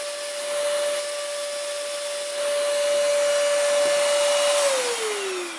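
A BlitzWolf APOSEN cordless vacuum cleaner runs with a steady, loud motor whine and broadband airflow hiss throughout, its pitch holding level before dropping slightly near the end.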